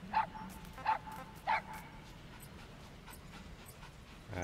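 A dog in Metal Gear Solid V barks three times in quick succession, then breathes and pants softly over steady game ambience.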